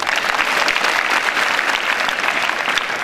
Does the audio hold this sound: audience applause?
yes